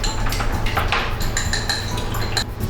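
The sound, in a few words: beating an egg in a bowl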